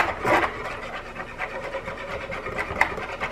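A utensil scraping the bottom of a container while mixing cold process soap batter with colorant, a few quick rough rubbing strokes close up, no voices.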